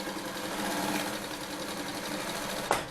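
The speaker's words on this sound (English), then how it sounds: "it can sew on a variety of thick material, especially on the seams" A heavy-duty flat-bed industrial walking-foot zig-zag sewing machine stitching through thick material, running as a steady, fast, buzzing mechanical rattle that ends in a brief sharp clack.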